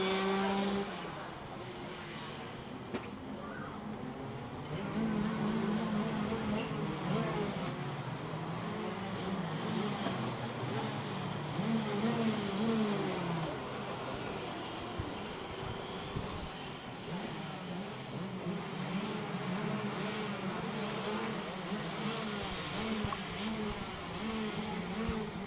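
Race car engines at a motorsport race in Wackersdorf, Germany, drone and rev continuously as a dense pack at moderate distance, their pitch rising and falling without pause.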